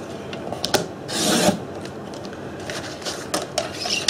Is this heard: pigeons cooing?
no